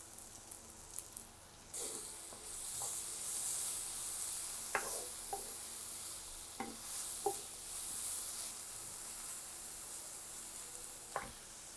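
Steady sizzling of egg with green onion frying in oil, with occasional scrapes and taps of a utensil stirring the pan.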